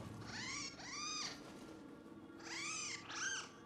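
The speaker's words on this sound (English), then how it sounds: "Scampuses make tiny pet noises." Small spherical scampus creatures in the video game Nioh 3 give tiny chirping, mewing pet calls, two pairs of rising-falling cries, fairly close and clear over a low game ambience, with no talk.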